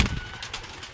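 Pigeons in a loft coo softly in short, low, breathy pulses, close by and fairly quiet, with no talk.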